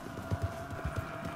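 Horse hooves clip-clop at a steady trot while riding in Red Dead Online, a soft rhythmic series of low thuds under a faint ambient hum.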